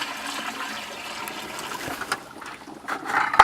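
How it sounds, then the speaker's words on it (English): Water poured into clay and stirred into a soupy slurry, a continuous wet trickling and sloshing that builds louder toward the end, with no voices. "I got water here. I'm going to mix it into this clay and bring it into kind of a soup."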